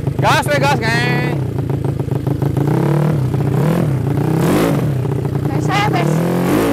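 A big motorcycle engine revs hard under throttle, its pitch sweeping up and down in repeated surges, loud and close, while someone talks and shouts over it.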